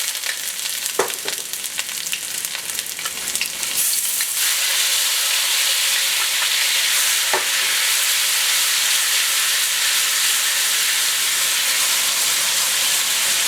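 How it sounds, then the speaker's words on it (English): Ginger and garlic sizzle loudly in hot oil, about two tablespoons of each, a steady close frying hiss that swells fuller after a brief stir and runs on without talk. "The first step is to put in your ginger, about 2 tablespoons,"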